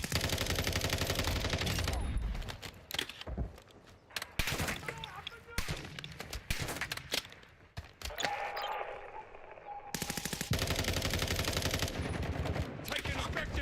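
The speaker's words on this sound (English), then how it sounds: "Taking effective fire." Gunfire in Black Ops 6 crackles in bursts of rapid automatic shots and single cracks, loud and close, with quieter gaps and game sound in between before firing resumes heavily at the end.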